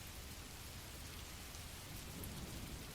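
Heavy rain pours in a storm, a steady, even hiss of dense drops with no pauses, close and enveloping, with no voices.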